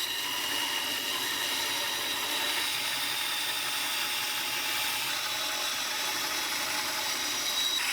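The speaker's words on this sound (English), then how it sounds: "So now I'm going to cut out these tabs. Just going to use the bandsaw for this as well." Bandsaw cutting small wooden tabs for knock-down display shelves, a steady continuous whine and hum of blade through wood, loud and close throughout with no pauses.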